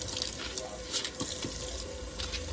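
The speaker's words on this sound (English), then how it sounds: "I like to peel mine under running water." Water running steadily from a kitchen sink tap while an onion is peeled under the stream, a close, even hissing splash with faint handling sounds.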